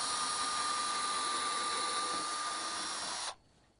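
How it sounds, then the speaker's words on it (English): A power drill bores pilot holes through sections of a wooden tabletop, a steady high whine running for about three seconds before cutting off abruptly, alone and fairly close. "drill pilot holes through the sections of the top"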